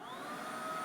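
A Numatic NBV-190 cordless vacuum cleaner runs steadily on its single speed setting, producing a continuous, fairly quiet whine and airflow rush at close range with no talking.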